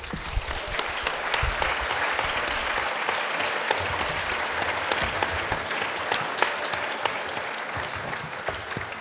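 A lecture hall crowd at a philosophy talk breaks into long, steady applause, a thick wash of clapping with sharper individual claps standing out, lasting the whole stretch without speech.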